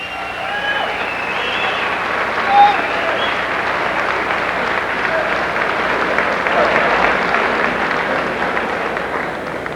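A hall audience gives sustained applause for the boxer Jose Napoles at a Boxing Hall of Fame induction. The dense clapping holds steady throughout and fills the room.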